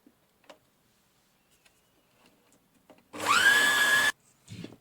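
An electric kitchen mixer kneads flour and water into petit-beurre biscuit dough, a loud whirring motor burst of about a second after quiet handling noises, followed by a brief clatter.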